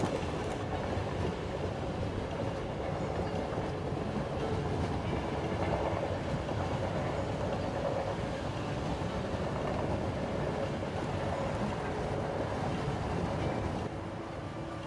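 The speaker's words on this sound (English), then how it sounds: "let's just watch some trains roll here." Lionel O-scale model trains roll along a home layout, giving off a steady, continuous rumbling clatter of wheels on track for the whole stretch with no voices.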